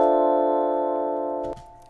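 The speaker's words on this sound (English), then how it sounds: "you have a chord, which should sound like this." A sustained chord played in beat-making software for a plugg-style beat, a steady stack of synth tones ringing alone for about a second and a half before cutting off.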